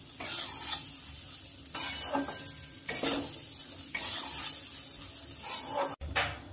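Gobindobhog rice being stirred and dry-fried in a pan with salt and turmeric, steady scraping and rustling strokes in repeated waves with a soft sizzle beneath, close and fairly loud, one sharp break near the end.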